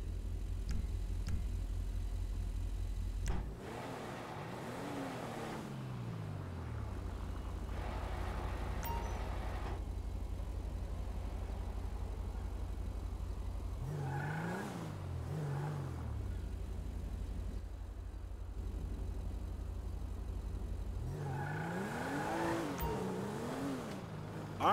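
Video game cars in GTA V revving and accelerating, engine pitch climbing and falling in several bursts over a steady low rumble, close and loud, with a brief pause before each surge.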